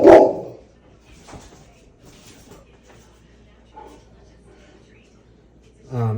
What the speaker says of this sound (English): my dog's in the room